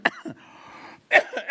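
A cough bursts out at the start, followed by a second cough or throat-clearing burst about a second later, close and fairly loud against a faint steady background hum during a live sewing broadcast.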